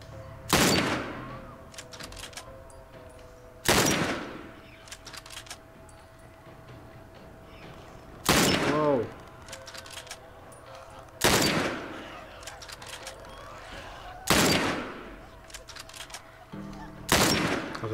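Heavy gunfire in The Last of Us Remastered comes as loud, evenly spaced blasts about every three seconds, each one cracking and then echoing away over a low, steady background hum.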